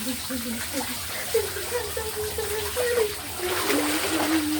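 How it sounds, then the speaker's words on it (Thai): Water splashing during play, apparently on a rooftop on a hot day. Choppy, close splashes and sloshing are heard under a woman's sing-song voice that runs throughout. "เล่นน้ำนะจ้าสนุกสนานจ้า"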